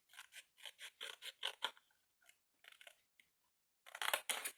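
Scissors make a run of quick, close snips as they cut through a small diagonal paper folding box, then a pause, a few more cuts, and a final louder burst of snipping.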